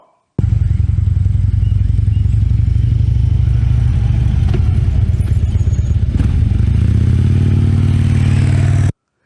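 A motorcycle engine idles loudly up close with clattering mechanical texture, then revs up and accelerates away during a quick stop-and-go riding exercise in a curve, steady and continuous throughout.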